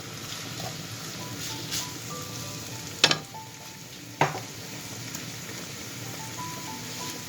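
Onions fry in a pan over high heat with a steady, soft sizzle. Two sharp clinks of a utensil against the pan stand out midway, and no one talks.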